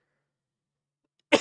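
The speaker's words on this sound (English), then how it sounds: "Sorry, I'm having bad cough." A single short cough bursts out at the very end after near silence, close and fairly loud.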